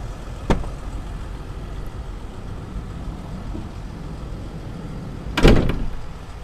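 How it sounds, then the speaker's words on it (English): The sliding door of a Thor Sanctuary 19L camper van slides open with a sharp click and a brief rolling thud near the end, following an earlier single latch click over a steady low hum. "As soon as you open that sliding door, you have this flip down table"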